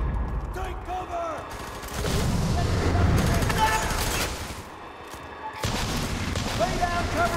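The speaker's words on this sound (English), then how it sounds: "Lay down covering fire." Bursts of gunfire and explosive booms rip through a FEAR 3 firefight in rapid volleys, loud and continuous, with voices talking over the battle.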